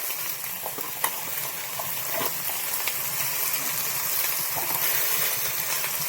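Bottle gourd and shrimp frying with turmeric in a pan, giving a steady loud hiss and sizzle that runs unbroken throughout, with a few faint clicks of stirring close by and no voices.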